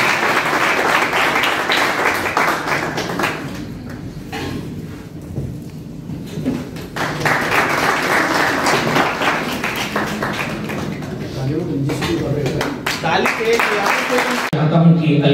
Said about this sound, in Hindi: जब ये आए तो ताली बहुत बजाएंगे।